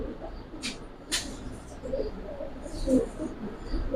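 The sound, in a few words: Giribaz pigeons cooing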